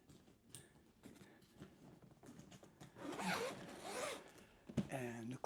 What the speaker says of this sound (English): And I'm going to zip it closed again.